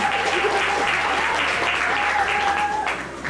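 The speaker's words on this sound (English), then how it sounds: "Please welcome and give a round of applause to" Audience at a school talent show breaks into steady, dense applause for the judges, a continuous wash of clapping with crowd noise that eases off slightly at the very end.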